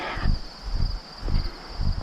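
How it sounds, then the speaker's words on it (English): Crickets keep up a steady high chirping trill along a quiet rural road near Lewiston, Maine, while soft low gusts of a gentle breeze rise and fall beneath it. "Crickets and a gentle breeze."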